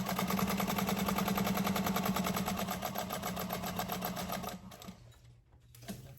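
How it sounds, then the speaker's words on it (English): Sewing machine top-stitching an appliqué pocket onto a bag, a fast, even mechanical stitching hum that runs steadily at close range before slowing and stopping near the end. "I'm just stitching around the sides, across the bottom."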